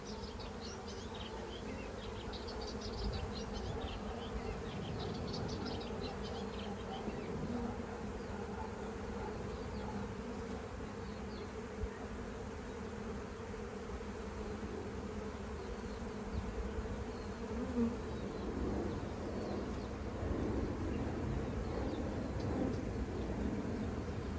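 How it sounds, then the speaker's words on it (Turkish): Many honeybees crowd the edges of a hive's bottom board, producing a dense, continuous buzzing hum close by that persists evenly throughout, with no speech. "Dediğim gibi taban tahtasında kenarlara çok arı var"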